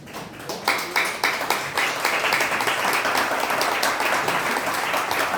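A church congregation breaks into applause, starting with a few separate claps and swelling quickly into loud, sustained clapping.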